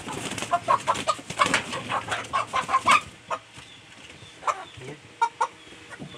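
Golden hens cluck repeatedly on a poultry farm, a close series of short, sharp clucks in a busy cluster at first, then sparser calls over a quieter background.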